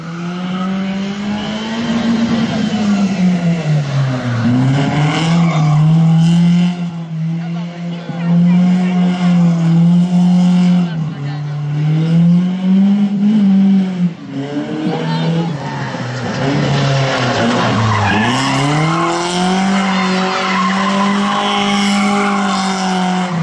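A rally car in a driving skill contest spins and skids continuously, loud engine revving rising and falling with repeated tire squeal, close and dominant throughout.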